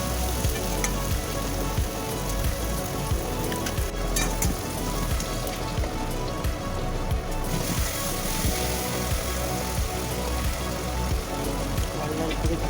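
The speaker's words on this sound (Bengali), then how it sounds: "সেই পেঁয়াজগুলো দিয়ে দিয়েছি। দিয়ে ভালো করে লাল লাল করে ভাজছি।" Three chopped onions fry in oil, producing a loud, steady, rain-like sizzle with constant popping close up for the whole stretch.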